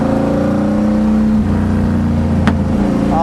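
Shelby GT350 engine droning at a steady, loud pitch throughout, a sustained near engine note with a faint click midway, no speech.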